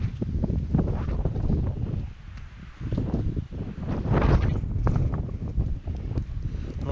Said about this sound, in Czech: vítr zavřel nám dírnu